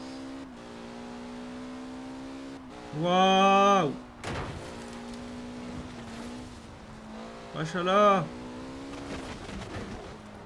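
Car engine in the Forza Horizon 4 racing game holds a steady drone, rising in two loud revving bursts, while a person exclaims excitedly over it.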